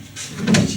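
A drawer slides open in a short wooden scrape that ends in a soft bump, close by and alone.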